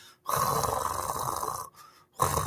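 A person imitates snoring up close: a long rasping inhaled snore, a brief pause, then the start of another.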